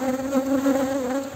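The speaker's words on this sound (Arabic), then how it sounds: "صدقوني بديت نشوف أن هناك تحرك للنحل" Honey bees buzz in a crowded beehive, a dense, steady, close drone with a clear tone that continues without a break.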